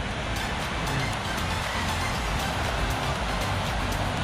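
Steady roar of surf washing onto Cronulla Beach, a broad continuous rush with wind buffeting the microphone.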